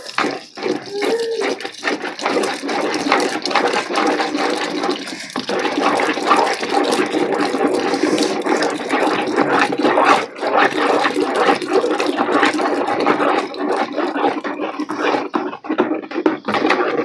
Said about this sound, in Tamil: இப்போ 1 லிட்டர் தண்ணி ஊற்றிக்கிறோம்.